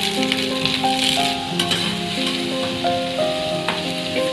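Diced onion sizzles steadily in a hot pan for vegetable Manchurian, with soy sauce already in, a continuous frying crackle under a bright, tonal hum throughout.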